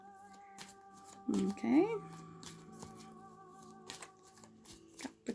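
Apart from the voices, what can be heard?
shuffling tarot cards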